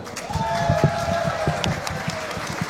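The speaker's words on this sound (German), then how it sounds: "jetzt können wir es noch mal ganz kurz mit einem tosenden Applaus" Live audience at a German darts creator tournament cheering and clapping for the commentators, a steady crowd roar with scattered claps and shouts, with a whistle-like tone running through it.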